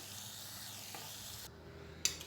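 Peanuts, almonds, cashews and raisins fry in oil inside a slotted frying ladle, a soft, steady sizzle heard faintly, ending with a sharp metallic clink.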